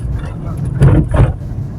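A car engine during a driving lesson hums steadily, then swells twice in quick pushes of throttle as the car accelerates, close and fairly loud inside the cabin.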